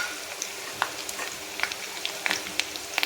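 Cumin, curry leaves and red chilies sizzle in hot oil as the tempering for sambar, a steady fry with scattered sharp pops and crackles, no talk.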